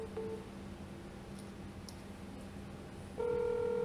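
On a cold call placed through a computer with a headset, a phone line gives short tones, then a steady hum, then a louder sustained ringback tone near the end, with no voices.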